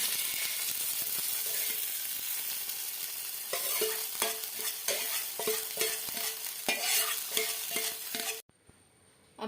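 Hot tempering poured into Kerala-style raw mango pachadi sizzles and crackles loudly with repeated stirring strokes for about eight seconds, then cuts off abruptly into near silence.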